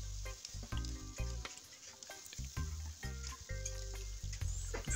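Spicy frankfurters fry in a pan with a constant close sizzle and crackle, broken by a low, irregular rumble and clatter as the pan shifts.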